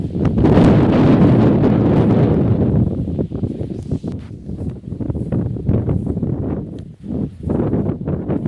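Strong wind buffets the microphone on a small hill in a loud, continuous roar that eases slightly after a few seconds, gusting on and off.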